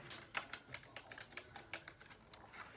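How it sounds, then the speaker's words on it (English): Keys clack on a new lighted gaming keyboard in a quick irregular run of soft clicks, close and quiet, with no voices. "the clicking sound isn't as good as my other keyboard"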